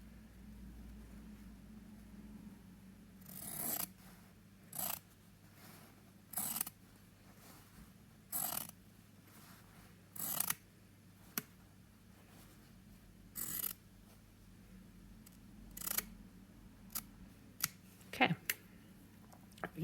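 Scissors snipping through fabric strips guided by a bias gauge on a sewing table, a series of short sharp cuts spaced a second or two apart, close and clear over a low steady hum.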